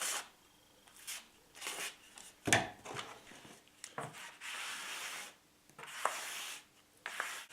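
Plastic float spreading grout across kitchen wall tile, giving repeated rough scraping and rubbing strokes in short bursts with brief pauses and occasional light taps, close and fairly quiet.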